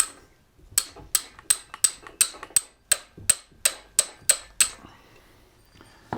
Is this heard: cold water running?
no